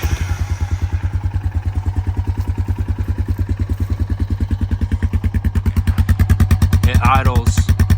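A 1998 Honda Foreman 450S 4x4 ATV with a no-start fault fires up without choke and settles into a steady, loud, rapid single-cylinder idle thump, close by, picking up slightly near the end.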